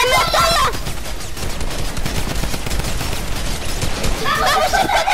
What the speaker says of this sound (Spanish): No puede ser que me haya matado la ametralladora